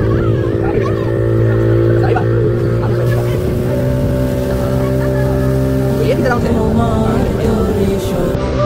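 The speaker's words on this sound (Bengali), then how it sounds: "তো এখন আমরা অবশেষে স্পিড বোটে উঠলাম।" A speedboat's outboard motor roars steadily while riding across a lake at a park in Bhaluka, its loud buzzing engine tones rising and shifting as it runs, with people's voices mixed in over the motor.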